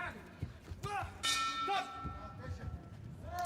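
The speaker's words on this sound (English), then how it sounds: "Bell goes at the end of round one." A boxing bell rings at the end of round one in a men's 60 kg amateur bout at Kielce 2021, a single clear metallic clang with a lingering tone under commentary and a noisy arena crowd.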